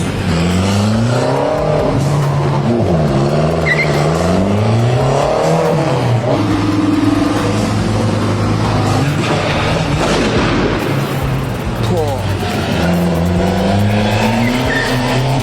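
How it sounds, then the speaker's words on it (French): An Aston Martin Vantage Roadster driving a descent in Monaco, loud engine drone with shifting revs and sharp popping bursts from the exhaust, heard nearby over the street. "Il a fait des retours d'échappement dans la descente."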